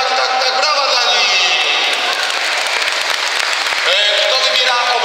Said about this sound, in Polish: brawa dla niej